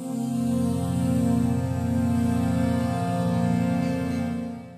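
A sustained post-tonal trichord played on MIDI instruments holds steady for nearly five seconds, with a soft pulsing repeated texture underneath, clean and moderately loud.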